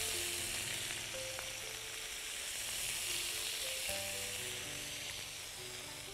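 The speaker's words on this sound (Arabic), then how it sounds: "لغايه ما ده ياخد تشويحه ولون كده" Chicken pieces seasoned with salt and pepper sizzle steadily in a hot pan, a continuous close frying hiss with no talk.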